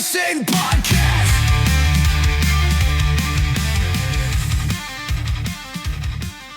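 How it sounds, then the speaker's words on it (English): Ferrari V10 Formula 1 engine revving hard and close, a loud continuous high-pitched scream with shifting pitch and several quick gear-change dips, heard alone without talking. "that was the sound of a V10 Ferrari engine."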